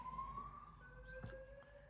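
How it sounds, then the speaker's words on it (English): An evacuation siren at a nearby school sounds from a distance, its steady tones gliding and overlapping. The wail is faint and continuous across the whole stretch. "it's like the evacuation sirens are going off."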